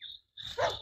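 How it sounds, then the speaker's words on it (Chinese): A dog on a mountain gives one short bark that carries from a distance under a dark, overcast sky threatening rain. A faint background hiss comes before it. "那个山上面怎么会有狗叫的？"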